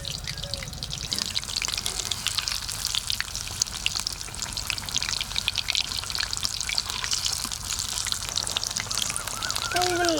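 Pumpkin beguni fritters frying in a full pan of hot oil, a dense, steady close sizzle with fine crackling and popping throughout, no voices.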